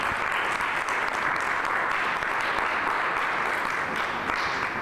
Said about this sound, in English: I want to give our panelists a round of applause here.